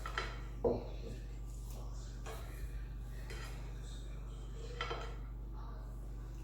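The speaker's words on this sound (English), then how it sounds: "And I just stir that till it's melted" A spoon scrapes and clinks against a metal pan while butter is stirred until it melts, sparse close metallic knocks and scrapes over a steady low hum.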